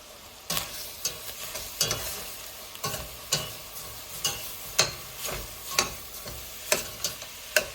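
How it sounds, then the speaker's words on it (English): A spoon stirs chili with oregano in a pot, scraping in a steady rhythm of roughly one stroke per half-second over a soft background sizzle, close and distinct with no talking. "We're going to stir that all up."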